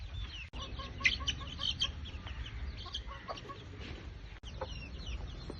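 Chickens clucking around a small backyard flock with chicks: scattered, overlapping clucks and short calls at moderate distance over a soft, steady background rustle, with no talking.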